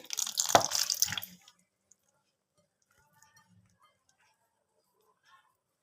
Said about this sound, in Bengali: জলটা আমি একদম একটু একটু করে দেবো, অনেকটা করেও দেবো না একবারে